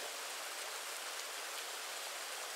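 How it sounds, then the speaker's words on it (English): Steady rain hissing evenly throughout, a dense continuous wash of droplets with no other sounds. "rain."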